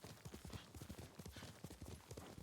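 Horse hooves clip-clop in a quick, even rhythm as a rider travels in the video game Ghost of Tsushima, the beats close and fairly clear over faint background sound.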